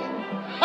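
Dog at a live dog trick show gives a short, sharp yip or bark at the very end of a brief moment of whiny, tonal dog vocalizing, close and fairly loud.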